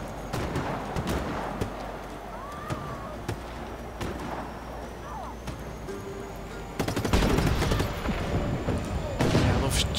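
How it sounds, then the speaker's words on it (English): Gunfire and exploding ammo boxes crackle in the video game Just Cause 3, with rapid pops and sharp bangs over constant background rumble that thickens into denser bursts toward the end. "I love shooting those ammo boxes. They're absolutely ballistic."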